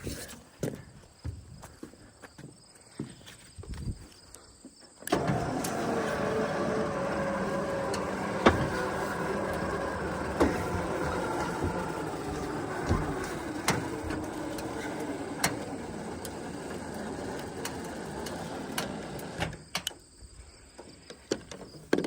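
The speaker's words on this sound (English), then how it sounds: "The winch is really struggling to pull it." An electric winch strains to pull a vehicle, giving a loud steady whining drone that starts abruptly, holds for about fourteen seconds with small surges, then cuts off.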